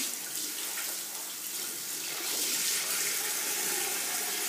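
Warm water running steadily from a tap as a face is wetted during a skincare cleansing routine, a continuous close splashing hiss that grows fuller midway.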